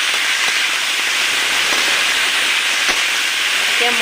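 Vegetables drop into hot oil for a banana-flower dish and set off a loud, constant sizzle, a dense frying hiss that stays even throughout, with faint stirring taps and a brief voice near the end.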